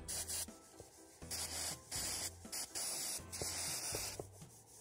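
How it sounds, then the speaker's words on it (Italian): Brake cleaner sprayed in short hissing bursts into the mass airflow sensor of an Alfa Romeo 147 JTDm, several loud, sharp sprays separated by brief pauses, with no talking. "Io ho usato lo spray pulitore per freni e lo spruzzo dentro al sensore."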